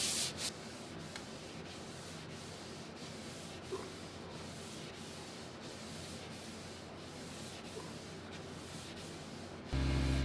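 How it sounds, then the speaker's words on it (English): Steady back-and-forth rubbing of 400-grit sandpaper on a wooden vintage magazine table, rhythmic scratchy strokes continuing throughout, close and fairly quiet, ending with a brief low hum. "I sand it with 400 grit sandpaper and a fine scuff pad."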